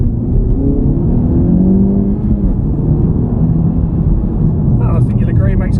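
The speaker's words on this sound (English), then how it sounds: "I think you'll agree it makes quite a nice aggressive sound. So it's a 2-litre turbocharged engine." Honda Civic Type R GT with a 2-litre turbocharged engine, driven on a UK road: a loud, steady engine drone with rumbling low tones, continuous throughout and ending with a brief faint sound.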